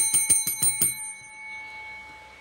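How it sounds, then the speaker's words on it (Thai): Five quick rings of a small bell in an even rhythm, each bright and close, followed by a fading ring-out over faint background noise. "พอดีมีกระดิ่งอยากเล่นบ้าง"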